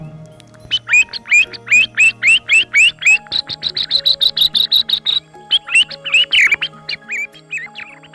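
A thrush calls repeatedly in bright, rhythmic chirping phrases, fairly close, with a steady low hum underneath throughout, in the Provence countryside.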